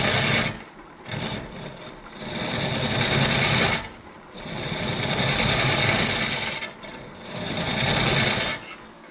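A steel tool being reshaped and sharpened against a grinder, a long harsh rasping grind in three close, loud passes separated by brief pauses.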